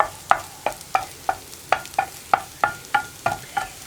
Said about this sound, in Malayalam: മുളക് പൊടി ഒന്ന് കരിഞ്ഞു പോവാതിരിക്കാനാണ് ഞാനിതുപോലെ ഇളക്കി കൊടുത്തുകൊണ്ടിരിക്കുന്നത്